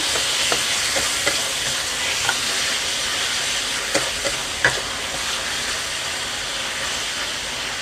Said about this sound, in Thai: ผัดให้เข้ากันก่อนนะคะ